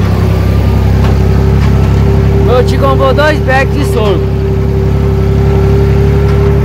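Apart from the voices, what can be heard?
Valmet tractor engine running while loading sorghum bags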